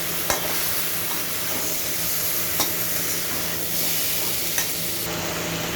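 Tomatoes are stirred into frying chicken curry for a village-style murgir jhol, giving a loud, dense sizzle with periodic scraping strokes of a spoon against the pan.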